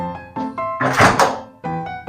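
A solid thunk of a microwave door shutting, with a brief busy burst in the middle, set against a steady humming drone.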